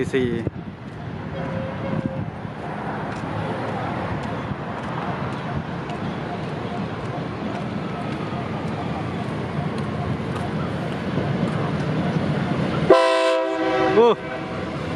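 A Daewoo diesel railcar horn blares loudly near the end over a steady rumble of the air-conditioned train, Surat Thani to Bangkok service 44 arriving at Bang Sue, with voices faintly in the background.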